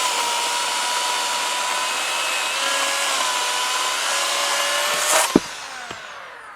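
An electric chainsaw cutting wood gives a loud, steady high-pitched whir with a buzzing rasp, close by, ending with a sharp knock as the cut finishes and the motor winds down.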